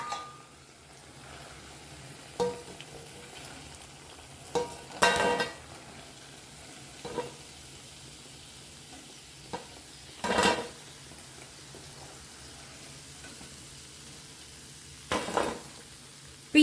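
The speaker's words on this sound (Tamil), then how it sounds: "இப்போ இதே மாதிரி மீதி உள்ள மாவெல்லாம் ஃப்ரை பண்ணி எடுத்துகிட்டு வந்துக்குவோம்" Rice flour and curd vathal frying in hot oil, with a quiet steady sizzle under occasional clinks of a utensil against the pan at irregular intervals.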